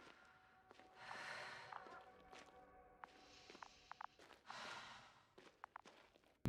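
Heavy, breathy sighs and exhales from a video game character, coming in several separate bursts with short gaps, interspersed with faint footsteps and small clicks, no talking.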